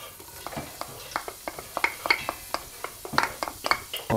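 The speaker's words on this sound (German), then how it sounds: "kommt schon mal die Butter in den Topf. So. Und dann kommen die Zwiebeln dazu." Onions sizzle in butter in a pot for Luxembourgish mussels, giving a soft frying hiss with many sharp crackles and spoon knocks at an irregular, quickening pace, close and moderately loud.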